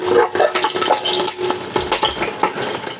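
Ginger, garlic and green chili fry in a pan for Schezwan fried rice, with close sizzling and repeated scraping and stirring strokes of a spatula.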